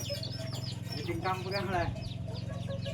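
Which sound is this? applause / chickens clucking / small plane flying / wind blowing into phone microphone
chickens clucking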